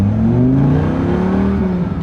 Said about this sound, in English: now I'm gonna take off a little more briskly, a little more like race speed, but without being a total freak, so you can see the speed of the single clutch upshifts